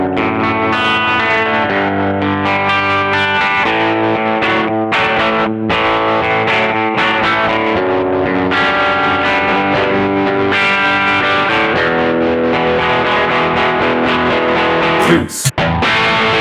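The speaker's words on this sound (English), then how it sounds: "can I tremolo?" Electric guitar on a NUX Cerberus pedal drive preset with tremolo engaged, a loud distorted line pulsing in steady rhythmic volume throbs, ending with a short click of the switch.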